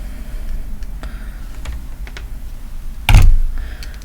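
A single sharp cut through VEX V5 wire with a bladed wire cutter, a brief loud snap near the three-second mark after quiet handling noise, with no talking.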